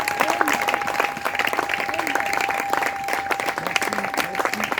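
Congregation at a midday mountain prayer service applauding and cheering for Jesus Christ, a dense, loud burst of many hands clapping steadily with voices rising through it.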